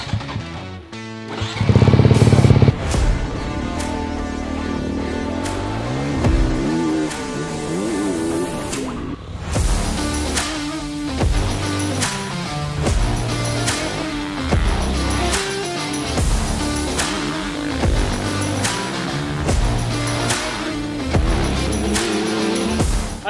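Honda 250 motocross motorcycle ridden off-road on a test ride, engine revving and shifting continuously, loud and near, with a brief louder burst early on and a sustained engine drone throughout.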